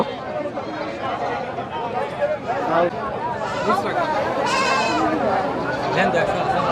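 A goat bleats repeatedly at a busy village livestock market, its cries rising over constant crowd chatter and nearby talking.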